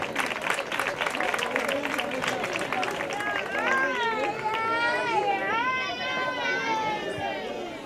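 Clapping from a crowd at a children's end-of-year school ceremony, continuous and moderately loud, with children's voices and chatter rising over it partway through.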